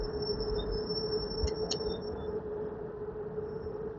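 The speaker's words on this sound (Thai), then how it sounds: "นี่รถไฟมาอีกแล้วซูมให้ดู" A train rolls past at a distance with a low continuous rumble and a faint metallic whine, plus two brief high squeals from the wheels.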